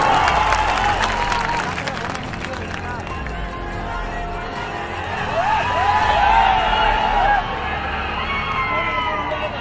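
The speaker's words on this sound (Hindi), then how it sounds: "एक बार ताली बजा के लगा।" Large crowd applauding at a live Bhojpuri stage show, steady clapping with cheers and babble, swelling midway before easing off.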